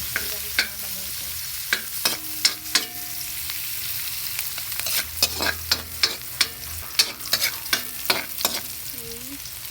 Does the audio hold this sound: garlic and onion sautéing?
yes